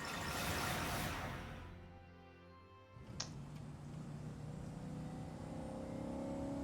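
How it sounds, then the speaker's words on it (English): A car engine in the Shadowverse video game rises and revs as it drives, heavy and rumbling under game music after a brief drop and a sharp click. "That sounds like a car."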